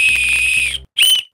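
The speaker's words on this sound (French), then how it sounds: "Regardez-moi ce petit sifflet." A small, cheap plastic whistle blown in two loud, shrill blasts close by, a long steady one followed by a short pause and a brief second toot.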